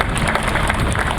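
An audience at a justice center tower dedication ceremony applauds elected officials and judges, a loud, dense burst of clapping filling the hall.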